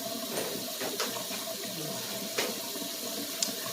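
Water runs from a tap into a sink while celery is rinsed, a soft, steady splashing stream close by with a few small clatters of handling.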